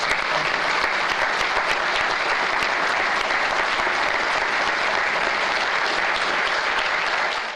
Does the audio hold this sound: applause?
yes